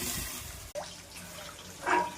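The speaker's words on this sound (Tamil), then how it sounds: "அரிசியை சேர்த்து தேவையான அளவு தண்ணியை சேர்த்து உப்பு போட்டுக்கலாம்." Water trickles into a pot of rice for ghee rice, a faint liquid pour with a soft splash that swells briefly near the end.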